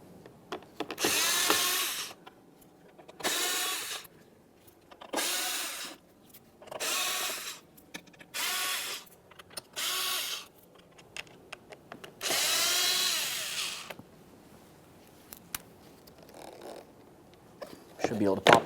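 A power tool whirs in repeated short bursts, about eight of them, as Phillips head screws are backed out of the upper grille on a 2010-2013 Kia Forte Koup, close and clear with pauses between each screw.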